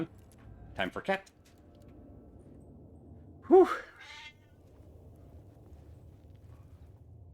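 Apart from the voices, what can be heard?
cat meowing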